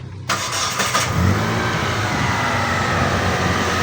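A car engine starts and settles into a steady, close idle running in petrol mode on a petrol and gas (BBG) fuel system, with a short cranking burst at the start and then an even hum.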